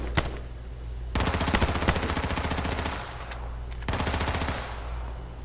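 Rapid automatic gunfire in the battle royale game H1Z1, two long sustained bursts of evenly spaced shots after a single opening shot, loud and close with no talking.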